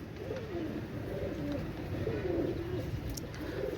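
Pakistani high-flying pigeons coo in soft rolling phrases at close range, repeating over a low steady background hum.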